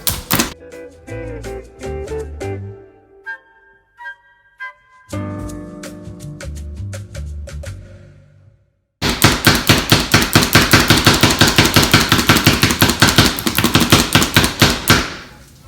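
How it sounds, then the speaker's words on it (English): Rapid, rhythmic chopping on a board, with sparse clicks and taps first, then a loud run of fast, even strikes for several seconds. "I'm chopping garlic"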